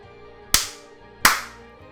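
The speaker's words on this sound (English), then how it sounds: "let's do the clap." Two sharp hand claps about three-quarters of a second apart, close and loud, each ringing out briefly in a small room.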